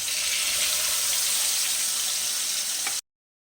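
Tomato, green chili and ginger paste hitting hot oil in a pan, giving a loud, steady hiss of frying that fills the moment and then cuts off abruptly.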